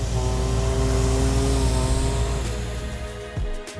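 A V8 car engine drones loudly and steadily in a sustained rev as it climbs a desert sand dune in Oman, close and continuous, dipping slightly toward the end.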